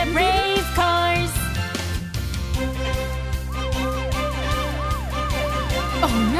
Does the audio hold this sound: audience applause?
no